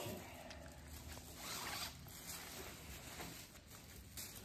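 The zipper on a burrito sleeping bag is pulled along its track, a faint, close, continuous ratcheting rasp lasting several seconds with slight surges in pace.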